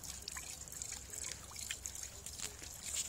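Water trickles from a gravity-fed garden trough through a small water wheel with cinnamon-jar cups, making a faint, steady dribble with soft, uneven splashes.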